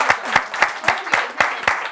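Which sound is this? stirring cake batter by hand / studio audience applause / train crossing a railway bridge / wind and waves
studio audience applause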